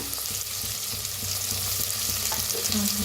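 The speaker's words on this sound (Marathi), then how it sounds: "आता ह्याच्यातच टाकूया आपण अद्रक लसूण चेचून घेतले होते, हिरवी मिरची लसूण" Crushed ginger, garlic and green chilli fry in a pan with a steady, close sizzle. Light stirring clicks and scrapes sound under the sizzle, and nobody speaks.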